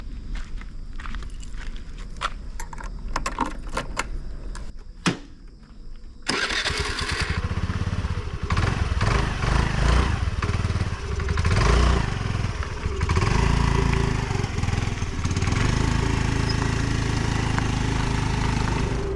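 A scooter on a road trip in the Konkan region of India starts up after some scattered knocks and footsteps, then its small engine runs steadily and loudly, with wind and road noise, for the remaining stretch.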